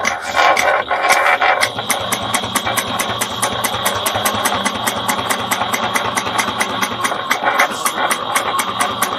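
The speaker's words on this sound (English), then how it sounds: "And then I'm going to back stitch like 3 or 4." A sewing machine back stitching through a bag runs in a steady mechanical rattle with rapid, even needle clicks, close and loud throughout.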